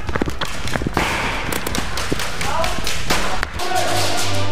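An airsoft gas grenade goes off in a rapid burst of sharp cracks and pops, loud and close, with a voice shouting over the bangs.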